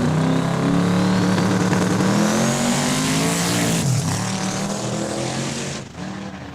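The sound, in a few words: 89 Beretta drag racing pass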